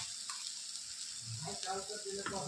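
Crushed chili thecha drops into browned onions in a hot pan, setting off a soft, close sizzle that swells midway with a few brief crackles, fairly quiet overall.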